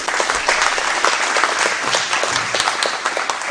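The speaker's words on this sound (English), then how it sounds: "I want to give a round of applause to Senator." An audience at a county Republican meet-the-candidates event applauds a state senate candidate with dense, continuous clapping that holds steady for a few seconds.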